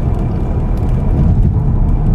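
A 2015 Ford Mustang EcoBoost accelerates in 6th gear from about 35 mph at low revs, giving a steady, loud, close cabin engine drone and road rumble with no voices.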